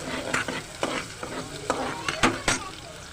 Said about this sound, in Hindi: और अब मैं इसको थोड़ी देर फ्राई करूँगी।